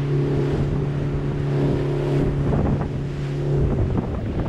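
A motorboat cruises across the sea near Havelock Island, its engine holding a steady low drone under heavy wind buffeting and splashing water, loud and continuous with no talk.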